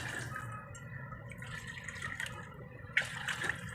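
Water poured into a kettle for Maggi veg noodles with carrot and tomato, a steady low watery rush with a brief splashy burst near the end, moderately near and alone.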